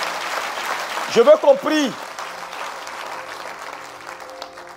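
A church congregation applauds and cheers for Jesus during a pastor's sermon, a steady wash of clapping and crowd noise running throughout, with a voice speaking briefly over it.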